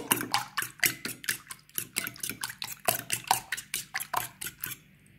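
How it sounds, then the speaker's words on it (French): Eggs and flour are beaten in a bowl with a utensil, a quick steady run of close, sharp clicking taps against the bowl's side that stops near the end, with no one talking. "on va commencer à mélanger la farine avec les œufs"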